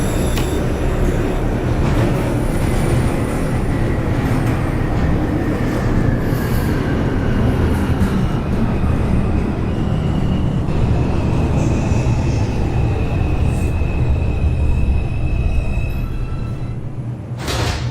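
An NYC Subway R142 train on the 5 line runs in the OpenBVE simulator, a loud continuous rumble of wheels and motors with high squeals and tonal whines rising and falling, heard alone.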